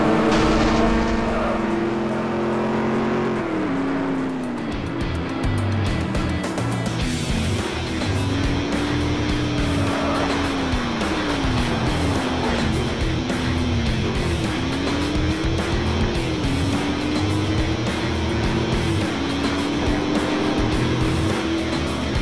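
A Ford race car in the Real Racing 2 game revs loudly and steadily throughout, its engine pitch climbing and dropping repeatedly as it shifts gears, with a continuous tire and road roar underneath.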